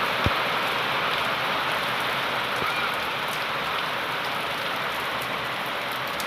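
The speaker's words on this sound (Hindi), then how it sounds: "बहुत तेज बारिश हो रही है।" Heavy rain pours steadily outdoors during a downpour at millet harvest time, a dense, even hiss that stays constant throughout with no talking.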